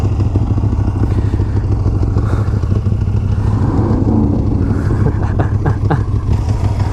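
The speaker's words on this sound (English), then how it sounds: "Watch when I rev it, the whole bike just twists." A 2016 Motus MSTR V4 motorcycle engine runs steadily at close range with a throaty idle, rising briefly as it is revved partway through.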